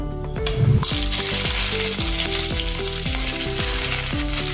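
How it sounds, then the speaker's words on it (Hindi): Onions and green chilies frying in oil for vegetable pulao, a loud, continuous close sizzle with stirring, backed by steady tonal music. "अच्छे से मिक्स करेंगे और भूनेंगे प्याज को और हरी मिर्च को"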